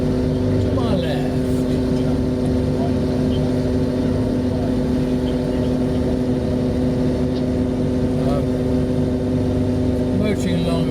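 A sailing yacht motoring under engine power off the rocky coast of Wales, its engine droning in a steady, loud, unbroken hum with occasional faint voices over it.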